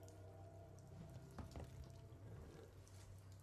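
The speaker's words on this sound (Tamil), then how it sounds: "நீ அது தண்ணி வருது." Water runs faintly from a tap-like source in Alien: Isolation, a quiet steady trickle and drip with a low hum beneath it.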